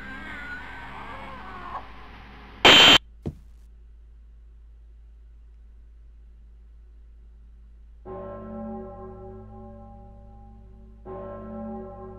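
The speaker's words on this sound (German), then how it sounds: "Ich höre Glocken." Church bells ring in a horror video game, two separate bell strikes each leaving a long resonant hum, heard after a louder sudden burst and a stretch of near silence.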